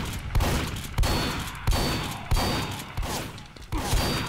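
Shotgun blasts in Team Fortress 2 during an MGE duel, with about seven sharp booming shots at roughly half-second to one-second intervals amid other game noise.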